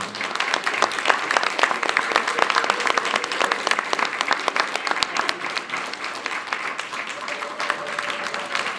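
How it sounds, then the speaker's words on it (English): An audience claps steadily and continuously, a dense, even round of applause with faint voices mixed in. "let's get a round of applause for everybody being here tonight"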